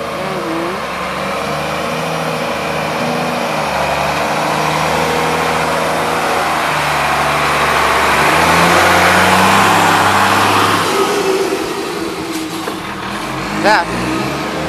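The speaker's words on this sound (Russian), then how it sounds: "Это едет КамАЗ." A heavy KamAZ truck rumbles past on a damaged village road between Ignatovo and Andreykovo, its engine drone swelling and fading steadily over roughly fifteen seconds, loud and close.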